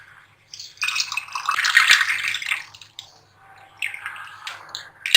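Cold water is poured over ice into lemon squash in a glass, giving a close, splashy trickle that runs for a few seconds, pauses, then returns in shorter bursts with soft drips.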